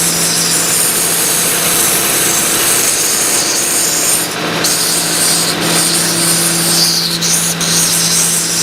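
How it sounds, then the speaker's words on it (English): Continuous loud grinding of a tungsten electrode against a zirconia belt on a belt sander, a harsh steady rasp over the motor's whine and hum, close by and sustained throughout, with brief dips in pressure. "These zirconia belts hold up pretty good to a tungsten."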